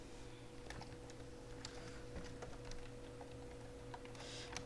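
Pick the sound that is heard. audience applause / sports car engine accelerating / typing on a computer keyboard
typing on a computer keyboard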